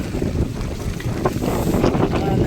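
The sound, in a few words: strong wind blowing outdoors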